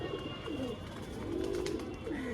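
Close pigeons coo in a few rolling, wavering phrases, one after another, over a quiet steady hum.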